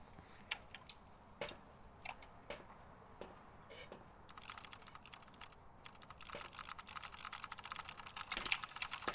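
Loud computer keyboard clattering in bursts, sparse keystrokes at first, then turning into rapid continuous typing that grows denser and louder toward the end, heard close up during a Phasmophobia ghost-hunting game session.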